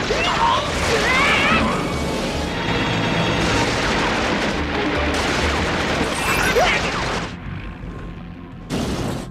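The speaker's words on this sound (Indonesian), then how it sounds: "Pilot Amerika ini langsung meluncurkan tembakan ke arah mereka." Gunfire and explosive crashes from the anime film The Cockpit as an American pilot opens fire, a dense loud barrage of blasts and mechanical roar that cuts out briefly near the end before one more burst.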